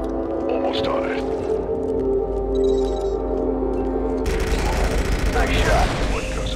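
Gunfire aimed at a live mine in Star Wars Republic Commando, starting under a low droning hum and then a loud burst of rapid shots with rumbling impact, with a voice speaking over it.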